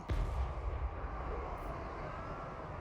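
A cannon in Total War Warhammer 3 firing grape shot, one sharp, heavy boom at the start followed by a low rumbling tail that fades under steady battlefield noise.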